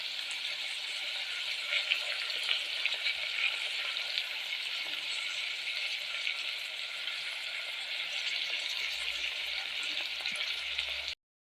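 Curry leaves, cashews and urad dal frying in hot oil for uppittu, a steady close sizzle with fine crackling running evenly throughout, no voices.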